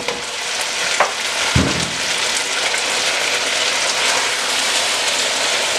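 Beef sears in a hot pan for beef and broccoli, giving a loud, steady hiss and crackle throughout, with a brief stir or scrape near the start.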